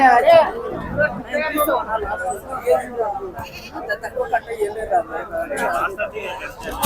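Large goats bleat repeatedly amid a busy livestock market crowd, their cries mixing with chatter and voices all around.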